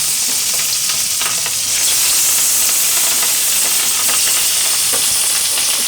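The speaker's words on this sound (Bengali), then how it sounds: "এবার আমি তেলে ভাজবো। কড়াই তেলটা দিয়ে দিয়েছি, অলরেডি গরমও হয়ে গেছে। আমি একটা একটা করে মাছটা ছাড়ছি।" Marinated fish pieces for chilli fish are slipped into hot oil in a wok, giving a loud, close, continuous sizzle and spitting crackle throughout, with no voices.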